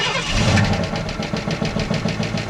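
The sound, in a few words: worn-out car engine running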